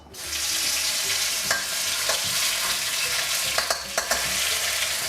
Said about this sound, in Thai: มาตั้งกระทะเลยนะครับใส่ น้ำมันลงไปเล็กน้อยนะครับ จากนั้นก็ตามด้วยพริกแกงนะครับ